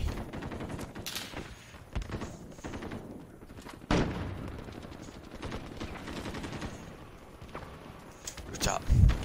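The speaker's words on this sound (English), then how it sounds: "Teammate shooting at me." Rapid bursts of gunfire from a teammate in the video game Warzone crackle through a busy mix, with sharp shots near 2 s, 4 s and a loud flurry at the end, under ongoing talk.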